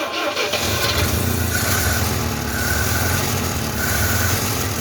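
A 1974 Citroën DS21, unused for over six years, cranks steadily with a loud, continuous mechanical churn as it tries to start, without catching.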